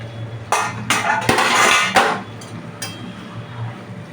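A metal plate used as a lid is lifted off a pot of potato and fish-head curry, giving a few close metallic clanks and scrapes over about two seconds, then quieter kitchen noise.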